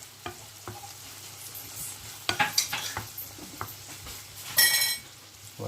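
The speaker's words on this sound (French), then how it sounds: "les oignons sont en train de dorer tranquillement" Onions frying and slowly browning in a pan give a steady soft sizzle, with occasional louder scraping stirs and clinks of a utensil against the pan.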